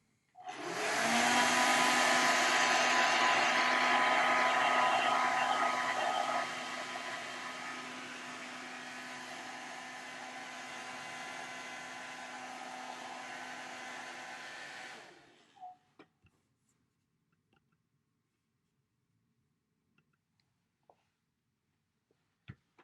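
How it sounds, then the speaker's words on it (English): A hair dryer blows steadily and loudly on a watercolor painting for about fifteen seconds, its pitch dropping slightly partway through, then it cuts off, leaving a few faint clicks and handling knocks. "so I've used the hair dryer"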